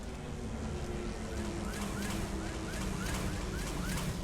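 Howling storm wind buffets a ship in Mass Effect 2, a constant, dense roar with whistling gusts rising and falling, heard alone with no talking.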